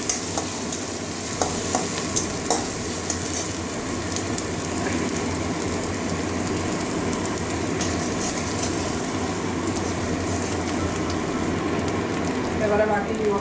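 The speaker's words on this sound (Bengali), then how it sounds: "এটা কাঁচা গন্ধ যাওয়া পর্যন্ত ভেজে নেবো" Spice paste fries in a pan while being stirred, a steady loud crackling sizzle with scraping strokes throughout, and a voice talks over it at times.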